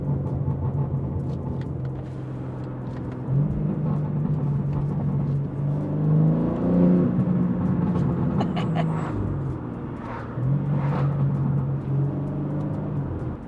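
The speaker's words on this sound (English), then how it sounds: "It does burble a lot, maybe Sport is better." Exhaust of a BMW G80 M3 with a catless downpipe burbling and popping, a steady deep rumble rising and falling in close, loud bursts throughout.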